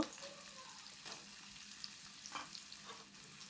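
Potato pieces frying in hot oil, a quiet continuous sizzle with a few louder scraping stirs of a spatula in the pan, close by and without voices.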